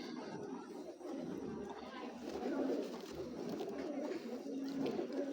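Racing pigeons of the 22 ring year coo softly in a loft, a low steady murmur of several birds mixed with faint background chatter and a voice.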